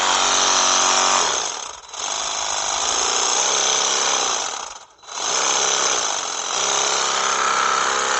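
A cordless reciprocating saw runs steadily at its third, fastest speed setting, a loud continuous buzzing rasp that briefly dips twice as the blade pauses or the load eases, with no talking.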